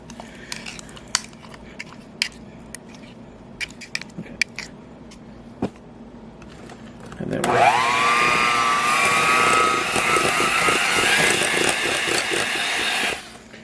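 Pumpkin cookie ingredients, including an egg, are whisked together in a bowl. Light scattered clicks and taps come first, then a loud, steady whirring drone runs for about six seconds before cutting off.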